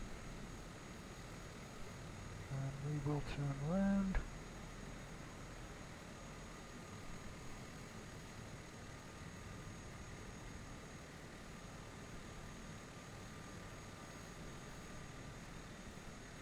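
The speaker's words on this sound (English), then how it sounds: "Running you over with a big plane." Propeller plane engine in Microsoft Flight Simulator, taxiing near grass in Cornwall: a faint, steady droning hum with a brief swell as a voice speaks over it, then a continuous low whir.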